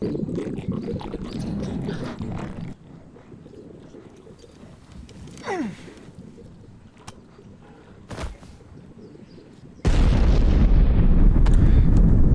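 Grenade explosions go off in a sci-fi comedy film, heavy booming blasts with a rumbling roar, a sweeping whoosh, a sharp bang, then a loud sustained explosive rumble at the end.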